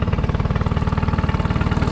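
A Honda 20 outboard motor idles steadily just after a carburetor cleaning, its even low chugging pulse running close and alone for the whole stretch.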